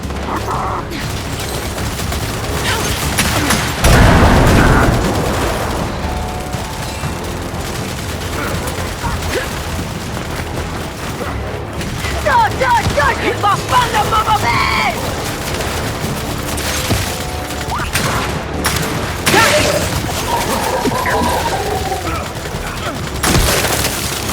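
A heavy explosion booms loudly in the third-person shooter Gears 5, followed by continuing gunfire, crackling debris and scattered battlefield noise across a loud, busy scene.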